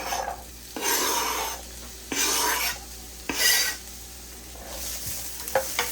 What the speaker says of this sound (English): I'm just going to add some oil so we can go ahead and get these onions to cook.